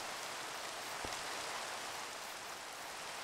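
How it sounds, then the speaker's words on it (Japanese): Steady rain in Minecraft hisses evenly and softly throughout, a continuous wash of fine droplets with one faint low thump partway through and no talk. "雨の時、雨多くない最近。"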